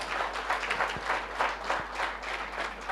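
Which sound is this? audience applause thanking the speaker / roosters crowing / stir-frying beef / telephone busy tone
audience applause thanking the speaker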